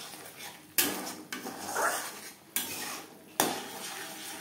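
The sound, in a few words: stirring spices with turmeric in a pan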